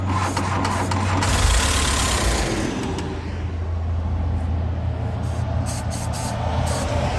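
A 1984 Volkswagen Vanagon Wolfsburg Edition engine, being coaxed with starting fluid, catches and runs with a loud, close, steady mechanical hum and rumble that holds fairly even throughout.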